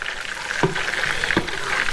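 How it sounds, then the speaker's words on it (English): Steak Diane sauce simmering in a pan gives a steady, close bubbling sizzle with a couple of brief soft pops or spoon taps, no talking. "just let it simmer for 3 or 4 minutes"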